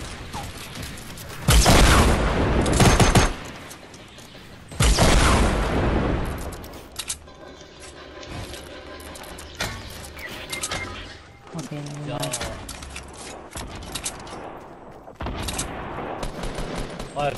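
Bursts of gunfire in a Fortnite Battle Royale squad match, with two loud, dense volleys near the start and scattered lighter shots and mechanical clatter afterward, while players talk over the action.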